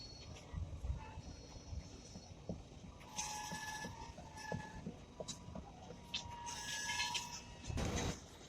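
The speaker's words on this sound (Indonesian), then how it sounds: "Jadi nampak bahwa rel-rel yang ada di gerbong datar itu sedang ditarik," A work train moves slowly along a Jakarta–Bandung high-speed rail construction site as rails on a flat wagon are pulled, giving low rumbling, intermittent metallic clanks and ringing squeals at a moderate distance.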